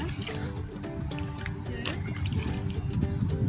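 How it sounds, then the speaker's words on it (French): A glass is rinsed with canal water outdoors, with trickling, splashing liquid over a steady background rush and occasional voices. "On prend un verre, on le rince 3 fois."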